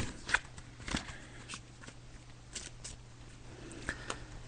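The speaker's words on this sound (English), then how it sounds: "So I'm just shuffling the cards now" Playing cards being shuffled by hand during a psychic reading, a series of soft riffling snaps and flicks, close up in a quiet room.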